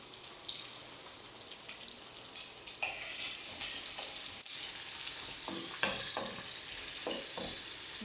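Onions for noodles sizzle in a pan, the hiss starting quiet and swelling louder halfway through as a spatula stirs and scrapes in several distinct clacks, no voices.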